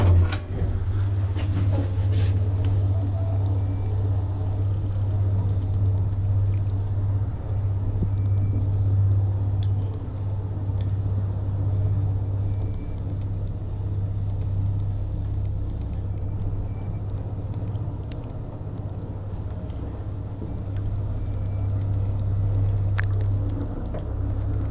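A 1959 Valmet traction scenic elevator running steadily, with a constant low machine hum and drone plus faint creaks and rattles that stay even throughout, with no talking.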